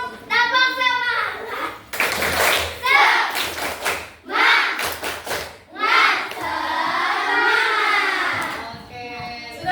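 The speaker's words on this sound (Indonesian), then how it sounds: "boleh dipimpin tepuk semangat teman-temannya" A classroom of children does rhythmic spirit clapping in patterned bursts, with their voices chanting and talking between and over the claps.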